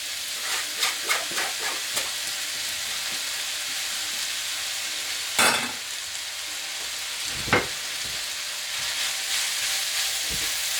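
Potatoes frying in a pan with melted fat, a steady close sizzle broken by several sharp clatters and scrapes of a utensil against the pan, with no voices.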